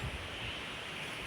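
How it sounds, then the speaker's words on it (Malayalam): Heavy wind gusts past a home among mango and jackfruit trees, a steady loud broadband roar battering the microphone throughout, with no voices. "എന്തോരം കാറ്റ്."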